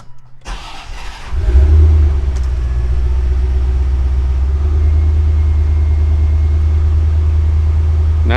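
A 1989 C4 Corvette engine cranks briefly, catches and starts, then settles into a loud, steady, close idle that runs on without a break.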